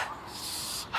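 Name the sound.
puppy whimpering and barking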